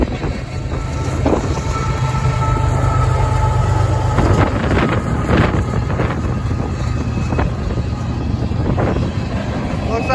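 A loud, continuous rumble of a Union Pacific freight train rolling past close by, with mid-train locomotives, rattling cars, squealing tones and wind buffeting the microphone throughout.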